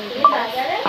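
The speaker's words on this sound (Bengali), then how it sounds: "একটু জল দিয়ে কষিয়ে নিচ্ছি" Soybean chunks sautéed in a pan with a little water, giving a brief close stirring scrape and soft sizzle with a clink of utensil against pan.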